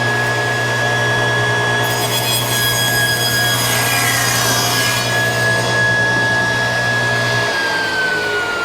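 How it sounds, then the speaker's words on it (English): Table saw running and cutting through a board of wood, a steady loud motor whine with a constant hum beneath and a rising rasp of the blade in the cut, then the tone drops as the cut ends. "So I'm going to turn on the saw."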